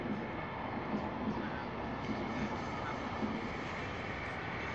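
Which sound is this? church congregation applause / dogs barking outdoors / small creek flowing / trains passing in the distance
trains passing in the distance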